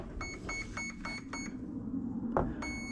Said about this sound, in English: So 5 beeps for 5S, that's good.